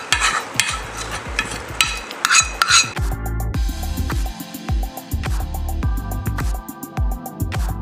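A spoon scrapes and stirs tempering in a pan with quick, repeated clinks and scrapes, close up, with a light sizzle of frying underneath, as peanuts and poha are mixed in.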